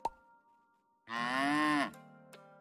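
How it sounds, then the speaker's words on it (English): A cow in a farming video game gives one long, clear moo after being hugged, preceded by a short chime and followed by a soft game tone. "Wow, Poe, way to sneak a cow hug"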